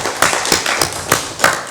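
Steady, evenly paced applause from a congressional session audience welcoming an honored guest, the claps close and rhythmic with no voices over them.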